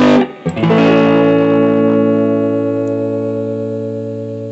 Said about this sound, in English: that's the reverb set at 12